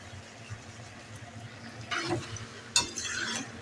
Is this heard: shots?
no